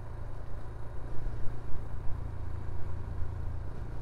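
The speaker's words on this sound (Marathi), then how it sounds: "त्यामुळे जरा लिमिट मध्येच आपण गाडी चालवूया." Low, steady engine rumble of a vehicle driving along a forest road near Rautwadi Waterfall, Radhanagari, Kolhapur, in the monsoon, with a continuous mid-level drone that swells slightly without pauses and no talk.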